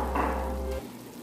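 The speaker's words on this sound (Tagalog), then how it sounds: "ginigisa na po natin yung hotdog at sibuyas" Hotdog and chopped onion sautéing in a pan give a dense, close sizzle that holds steady, then drops off sharply partway through to a quieter hiss.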